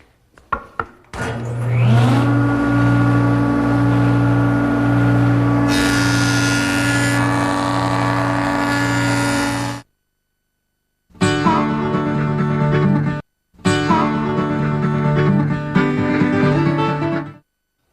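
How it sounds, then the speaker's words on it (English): A woodworking jointer planes table legs for an English serving table. The motor whines steadily for several seconds, falls silent, then runs in two shorter bursts close by. "Now let's run them through the joiner."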